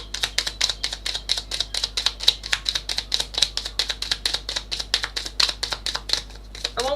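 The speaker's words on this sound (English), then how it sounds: "I want one more shuffle." Rapid, steady riffling of tarot cards being shuffled, a dense run of crisp flutters close by with no talking.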